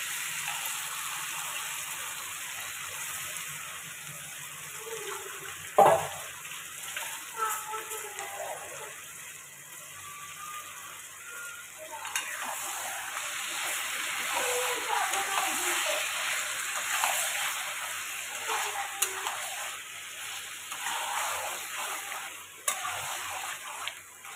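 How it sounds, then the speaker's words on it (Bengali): Marinated chicken goes into a pan of cooked-down spiced masala with ginger-garlic paste, producing a soft, uneven hiss and crackle with an occasional clack of a utensil. "মশলা কষানো হয়ে গেছে, এবার মেখে রাখা চিকেনগুলো দিয়ে দেবো"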